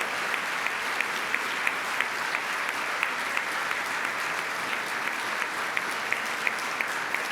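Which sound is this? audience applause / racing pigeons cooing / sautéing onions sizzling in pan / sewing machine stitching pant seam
audience applause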